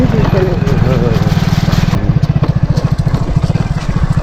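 A motorcycle engine runs close by with a steady, loud, rhythmic mid-pitched putter on a rural forest track near Chitrakoot. Someone talks over it throughout.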